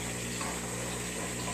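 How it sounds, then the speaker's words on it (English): An aquarium siphon hose draws water and air during a water change, giving a steady, close gurgling and bubbling rush that continues unbroken. "you'll see it starts bubbling. That's because it's starting to pull air through too"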